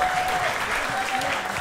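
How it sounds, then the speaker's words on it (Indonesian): Audience applause at a stand-up comedy roasting show in Bandung, a steady broadband wash of clapping with crowd noise filling the brief moment, no talk over it. "Roaster pertama pada kali ini beri tepuk tangan yang meriah buat Giawan dari Bandung."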